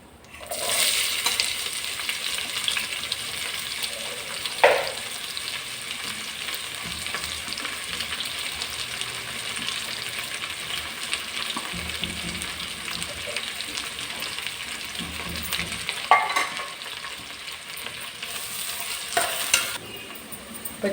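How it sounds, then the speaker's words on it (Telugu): Onions frying in hot oil for tomato rice, a steady close sizzle broken by occasional scrapes and clanks of stirring, with faint talk in the background. "ఉల్లిపాయలు వేగిపోయింది చూసారా"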